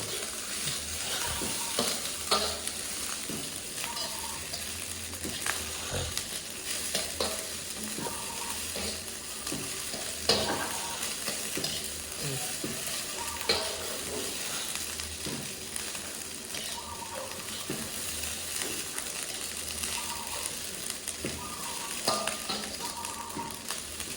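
Nasi goreng (fried rice) is stir-fried in a pan, with a continuous oily sizzle under repeated scraping and clacking of a spatula against metal, busy and close, with no talking.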